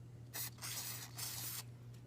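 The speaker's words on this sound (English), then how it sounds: "what we're going to do is spray around in here" Cleaner is sprayed into the receiver of an M1 Garand rifle in three quick aerosol bursts, close hissing puffs over a low steady hum.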